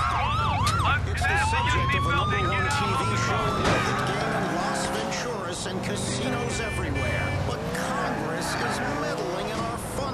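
Police car sirens wail and yelp loudly during a chase in the video game GTA IV, the rising and falling tones overlapping and sweeping continuously while people talk over them.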